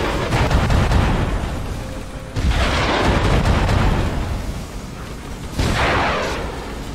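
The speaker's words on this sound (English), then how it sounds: "But it's got a machine gun cannon." Heavy cannon bursts from a machine gun cannon in Sunless Skies, booming in a few long rumbling volleys, loud and close with no talk over them.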